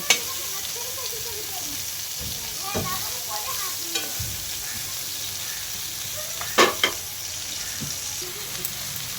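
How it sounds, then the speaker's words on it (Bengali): Eggplant fries in hot oil over low heat with a steady, hissing sizzle, punctuated by a few clinks and knocks of stirring. "এই তেলের মধ্যে এটাকে হালকা আঁচে বেগুনটাকে আমি ভেজে নেব"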